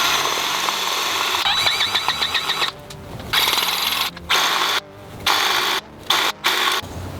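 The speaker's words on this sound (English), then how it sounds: "We got the Dewalt Grease Gun with the LockNLube XL." A DeWalt cordless grease gun fitted with a LockNLube XL coupler pumps grease into a Scag zero-turn mower caster, its motor whining steadily and then running in short, loud bursts separated by brief silences.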